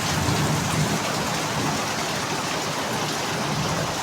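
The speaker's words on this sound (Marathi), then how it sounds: "काय मुसळधार पाऊस पडतोय कोकणातला पाऊस" Heavy monsoon rain in Konkan pours down steadily over paddy fields, a dense, even hiss of drops drumming on surfaces, close and continuous with no talk.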